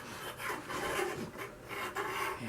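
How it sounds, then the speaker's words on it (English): Top spindle of a Richard Glaesser wooden musical Advent house pyramid being fitted down into place, giving a steady close rasping, rubbing scrape of wood on wood in short uneven strokes, with no talking. "now we're going to put the top spindle in"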